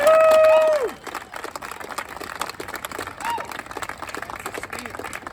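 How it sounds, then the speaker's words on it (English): A rally crowd in New York claps in a steady, scattered round of applause after a tone fades, many hands pattering with voices and cheers mixed in. "let's just give a round of applause for everybody with Bravest for Choice"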